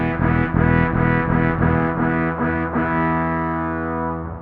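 Electric guitar played through a BOSS SY-1 synthesizer effect pedal, giving thick, buzzy synth-like chords that pulse in a steady rhythm and then ring out as one sustained, slowly fading tone, loud and alone.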